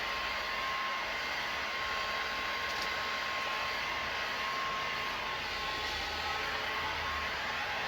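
A heat gun blows hot air onto an aluminium reducer trim for WPC/SPC flooring, giving a constant even roar of rushing air with a faint whine, unbroken and close throughout.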